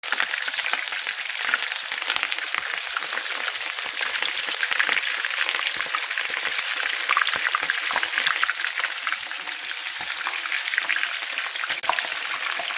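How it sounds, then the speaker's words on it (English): Breaded shrimp fry in a batch of very hot oil, giving a steady, dense, close crackling sizzle that holds evenly throughout with no talk over it. "now we're gonna start frying all the shrimp"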